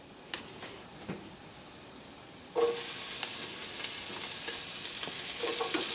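Jalapeno cornbread frying in oil in a pan, with a quiet sizzle and a few clicks at first, then a louder, steady hiss of frying from a fresh batch, close by, no voices.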